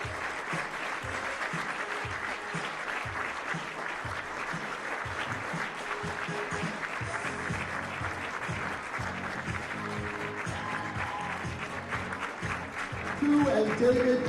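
A crowd at the Detroit Athletic Club gives a standing ovation after a professional squash match, steady dense applause filling the room throughout, with a voice speaking over it.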